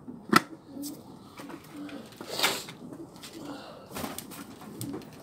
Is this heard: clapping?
no